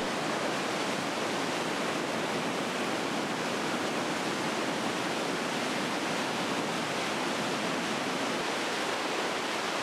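Rushing rapids and waterfalls on the Nile at Jinja, Uganda, make a dense, constant roar of white water that stays loud and unbroken throughout, with no voices.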